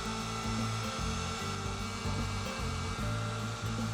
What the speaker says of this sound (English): we're just gonna take our heat gun on a low-ish setting